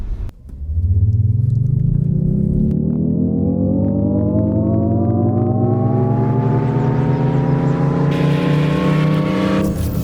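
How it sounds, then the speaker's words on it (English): An all-electric Audi e-tron pulls away and accelerates, its motor whine rising steadily in pitch over a continuous loud drive-by roar, with no voices. "Wave hello to the all-electric Audi e-tron"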